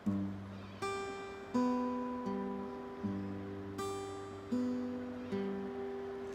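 Plucked acoustic guitar playing a steady fingerstyle pattern, bass notes alternating with higher strings in an even, repeating rhythm, close and clear.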